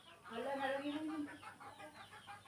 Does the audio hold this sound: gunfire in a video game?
no